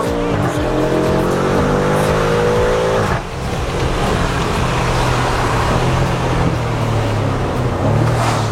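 A car engine hums steadily at low revs while driving along a mountain road in Montenegro, with loud broadband road and wind noise throughout and a voice speaking over it.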